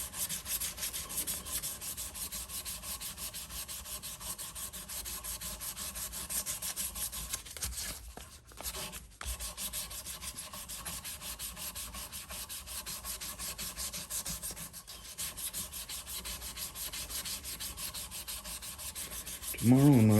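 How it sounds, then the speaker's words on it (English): Steady, continuous abrasive rubbing of sandpaper across a wooden knife handle, close and fairly loud, running without pause for the whole stretch with only brief dips, no voices. "I like this part of the knife making, the handle sanding rather"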